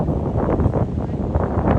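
Strong gusty wind buffets the microphone outdoors during a hike to Grand Étang on Réunion, a steady low roar that rises and falls throughout with no voices.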